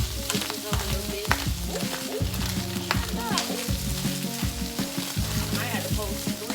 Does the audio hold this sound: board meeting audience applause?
no